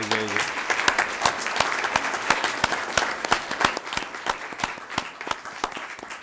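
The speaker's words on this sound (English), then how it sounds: "Let's give them one more round of applause" A room of people at a school board meeting applauds award recipients with steady, sustained clapping that tapers off slightly toward the end.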